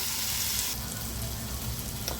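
Roasted masala paste of onion, dried coconut, ginger and garlic being stirred in a frying pan, with steady close sizzling and frying scrapes throughout and no talk.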